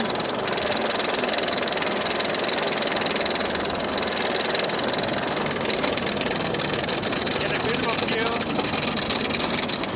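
Steady mechanical roar and rattle on the lift hill of the Wonder Woman Flight of Courage roller coaster at Six Flags Magic Mountain, loud and continuous from start to finish, with a voice speaking over it.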